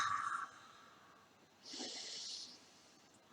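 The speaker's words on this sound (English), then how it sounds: "If you know Ujjayi breath, that subtle throaty breath" Ujjayi yoga breathing through a constricted throat: a brief hiss of breath, then a longer soft, throaty, rushing breath close to the mic, with no talk.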